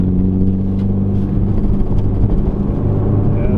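A 2021 Toyota GR Supra 2.0 drives a curvy, slightly bouncy road, heard as a steady low engine hum and road rumble from inside the cabin, with no talking over it.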